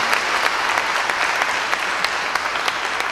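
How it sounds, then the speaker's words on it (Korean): Audience applause at an arts-education opening concert, dense steady clapping from a crowd lasting the whole few seconds, close and lively. "예, 박수 드리겠습니다."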